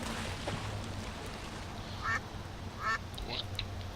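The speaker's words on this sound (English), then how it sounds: "This noisemaker seems to appeal to the ducks." Ducks in the adventure video game Secret Files 2 quack in a few short, fairly clear bursts over a steady background hum, drawn by a noisemaker.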